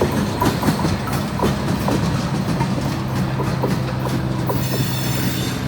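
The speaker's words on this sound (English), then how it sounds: "a train going past that old train station" A train rolls past an old train station with a steady, loud rumble, rhythmic clickety-clack of wheels over rail joints and a thin wheel squeal toward the end.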